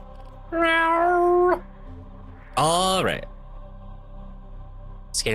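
A cat lets out two loud, drawn-out meows close to the microphone, each about a second long and separated by a short quiet gap, with another brief call starting at the very end.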